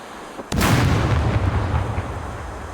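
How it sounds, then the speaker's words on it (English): A sudden loud grenade blast erupts in the Scum video game, its booming rumble trailing off over the following seconds. "Either grenade or the grenade launcher."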